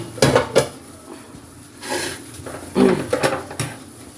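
A metal pot of milk is shifted on a gas stove, giving a few sharp metallic clanks and scrapes in short bursts, close and clear with quiet gaps between.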